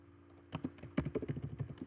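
Someone taps out a short note on a computer keyboard after a quiet pause, with a quick, uneven run of close, soft keystrokes.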